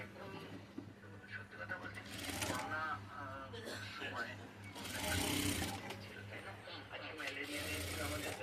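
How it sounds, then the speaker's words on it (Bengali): A new-model Juki F5 sewing machine stitches a blouse in a busy tailoring setting, its rapid mechanical chatter running in bursts beneath ongoing talk from people nearby. "জুকি মেশিন ইউজ করছে নতুন মডেলের F5 মডেল"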